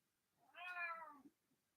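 A single drawn-out cat meow, clear and fairly close though soft, rising then falling over about a second against a quiet room.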